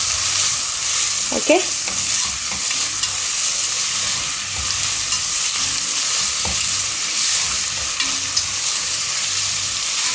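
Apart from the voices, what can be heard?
stirring salted food frying in a pan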